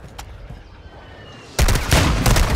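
Rapid gunfire in the Call of Duty Warzone 2 video game breaks out loud and sudden after a quieter stretch, a dense fusillade of close shots continuing to the end.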